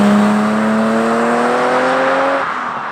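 Engine of a BMW M635CSi revving through a stainless steel exhaust, a loud, steady tone rising in pitch for over two seconds before easing off near the end, with no talking.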